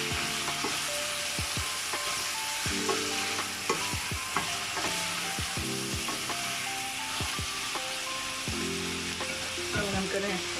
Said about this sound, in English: I'm going to give this a mix, just so the onions does not burn